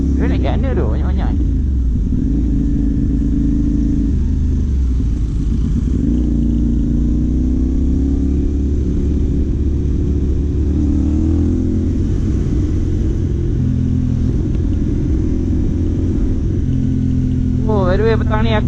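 Riding a CFMOTO 450NK motorcycle through heavy traffic, with a constant loud engine drone and rising and falling revs. Passing cars add a rumbling wash, and bursts of wind buffeting come at the start and end.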